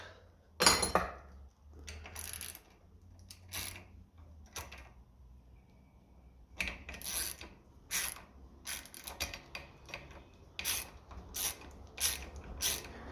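Socket ratchet working a nut loose on the diesel injection pump of a 1957 Ferguson TE20 tractor, with bursts of metallic clicking and tool clatter at close range.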